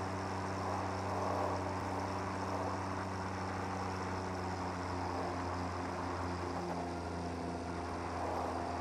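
A late-1990s to early-2000s Cummins diesel engine as found in Dodge trucks of that era, heard in the Satisfactory video game, drones steadily and loudly throughout with a deep, even rumble and no speech over it.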